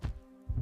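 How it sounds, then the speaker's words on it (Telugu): A heartbeat, two dull low thumps about half a second apart, soft and muffled with nothing else around. "మీలో నిరంతరం వినిపించే మీ గుండె చప్పుడు"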